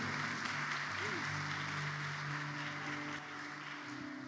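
A church congregation applauds to acclaim the Lord, a dense, continuous clapping that fills the room at a moderate distance, with a voice and sustained tones from music underneath.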